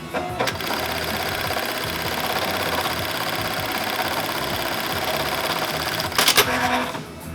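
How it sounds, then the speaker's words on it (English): An automatic sewing machine stitches a rectangular box X onto a belt strap with a loud, dense, rapid mechanical buzz that holds steady throughout, ending in a few sharp clunks near the finish. "we're doing it with one of our automatic machines which has a rectangular box X"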